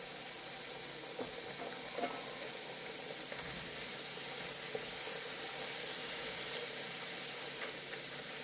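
Wheat pooris deep-fry in oil over a medium flame, a dense, even sizzling hiss that runs unbroken for several seconds with faint occasional ticks, close by and without talk.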